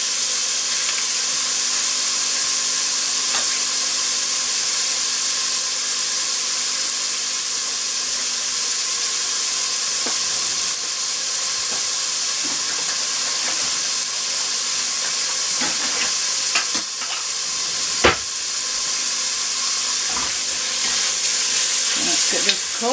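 Stuffed mushrooms cook in a pan with a constant loud sizzle and hiss, broken by occasional small pops and scrapes.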